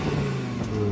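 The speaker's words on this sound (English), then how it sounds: "Let's hear your RS rev." An Audi RS3 engine revs in a brief sustained burst, loud and close, with a steady droning tone and no pause.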